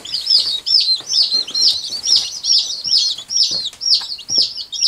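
Tiny bantam baby chicks peep in a steady run of high, rapid chirps, close and fairly loud, with faint handling noise underneath.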